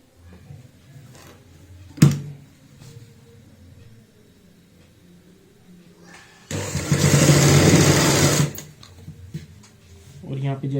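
A sewing machine stitches a baby frock in one loud whirring run of about two seconds, set between quieter stretches of someone talking, with a sharp knock just before.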